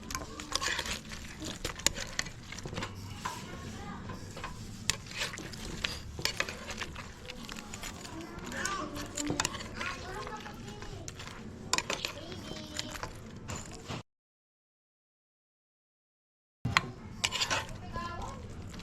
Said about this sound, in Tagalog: Halo lang natin dito sa sauce natin.